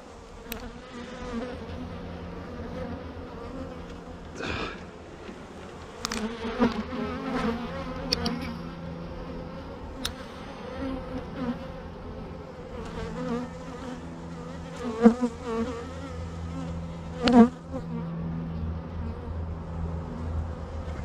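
Honeybees buzz steadily throughout an inspection of an Apimaye hive, a three-month-old split, making a continuous close swarm drone with a few sharper, louder passes and thumps near the hive.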